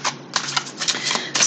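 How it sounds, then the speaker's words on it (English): A deck of tarot cards is shuffled by hand at close range, giving quick papery riffles and soft flicks in short bursts with no talking. "we will shuffle the cards and dive right in"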